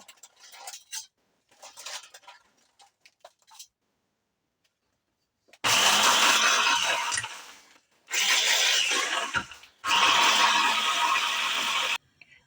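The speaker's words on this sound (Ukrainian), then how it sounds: "переб'ю вівсянку, дві столові ложки вівсянки відразу переб'ю" A blender grinds two tablespoons of oats in loud bursts of harsh whirring, with short gaps between runs and quieter clatter before the motor starts.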